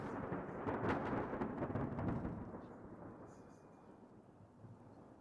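Thunderstorm sound effect within a song: a low, rolling rumble of thunder with rain hiss, loudest early then fading to a softer steady wash, fairly faint overall.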